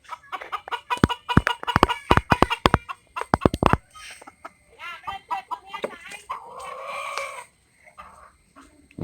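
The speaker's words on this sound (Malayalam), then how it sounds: "അതിനകത്തൊരു കോഴി ഇരിപ്പുണ്ട്." A hen inside a palm-leaf-thatched laying coop gives a burst of sharp, rapid clucks and squawks up close, then quieter drawn-out calls and a trailing croon.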